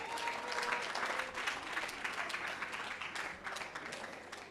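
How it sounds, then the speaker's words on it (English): A crowd of veterinary graduates and guests at an oath-taking ceremony applauds, a dense, steady wash of clapping that holds evenly for several seconds before starting to thin. "The Resilient 53, please give yourselves a round of applause."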